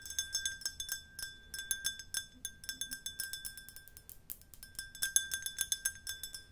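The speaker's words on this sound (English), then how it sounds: "So this is our non-customized tumbler." A tall 16-ounce glass tumbler handled up close, giving a quick run of bright, ringing clinks and taps in an irregular rhythm, quiet and alone.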